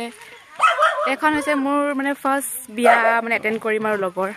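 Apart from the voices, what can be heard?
dog barking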